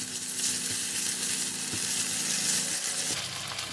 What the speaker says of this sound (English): So I use the same oil and put in the ginger and the beef and continue to